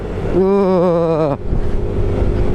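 A Yamaha NMAX Turbo Ultimate scooter on a touring ride revs with its Y-Shift in a loud, wavering engine whine for about a second, then cuts off sharply into rushing wind noise.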